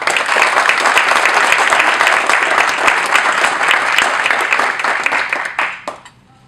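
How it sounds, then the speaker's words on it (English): Loud, dense applause from a conference audience, continuous rapid clapping filling the room before tapering off and stopping near the end. "So please join me in giving a round of applause for Amy Valentine"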